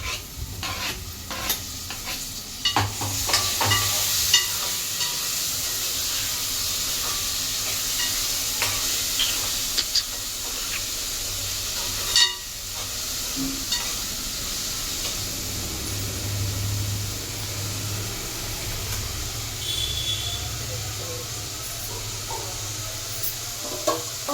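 Tomatoes go into a hot frying pan for a fish curry, hissing and sizzling loudly near at hand while a utensil scrapes and stirs in intermittent clinks.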